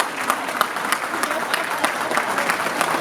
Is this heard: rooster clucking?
no